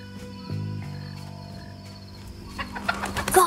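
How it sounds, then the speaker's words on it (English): A bird call from the stealth game Shadow Tactics: Blades of the Shogun, a few chirps rising near the end over a quiet in-game ambient bed and soft tones. "Bird's voice."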